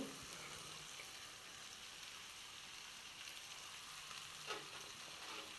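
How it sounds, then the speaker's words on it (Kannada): Onions frying in a pan for a village-style avarekalu bassaru, a steady close sizzle and crackle running continuously without talk. "ಈರುಳ್ಳಿದು ಹಸಿ ಸ್ಮೆಲ್ ಚೆನ್ನಾಗಿ ಹೋಗೋವರೆಗೂ ಫ್ರೈ ಮಾಡಬೇಕು"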